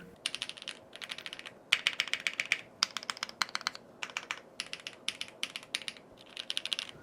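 Fast bursts of typing on a Zoom98 gasket-mount keyboard with Gateron Raw switches, a PC plate, no foam, GMK keycaps and WS stabilizers. The keystrokes are crisp, close, rapid clacks in short runs separated by brief pauses, with no voices.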